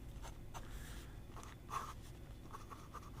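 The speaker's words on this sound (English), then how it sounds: "It's just a generic steel number 6 medium nib that writes spectacularly." A generic steel number 6 medium fountain pen nib scratches softly across paper in short, faint, irregular strokes, close and quiet with no talking.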